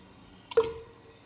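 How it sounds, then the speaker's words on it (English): A cowbell sample with reverb in an Afrobeat beat rings out once as a single clear hit, its tail decaying over about half a second against a quiet background. "We have a cowbell sound, sounds like this."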